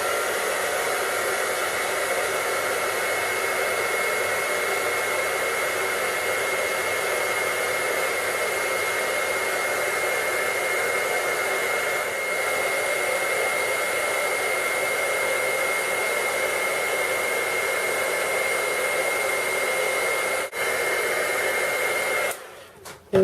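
A heat embossing tool runs steadily for more than twenty seconds, melting embossing powder with a loud, even blowing hiss like a hair dryer, then cuts off abruptly near the end.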